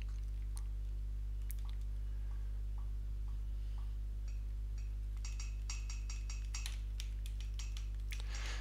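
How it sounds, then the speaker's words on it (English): Block placement and destruction sounds in the video game Total Miner, a run of soft clicks and taps early on, then a denser cluster of crisp clinking, crunching hits toward the end over a steady low hum. "Each block has different placement sounds, different sounds for when they're destroyed."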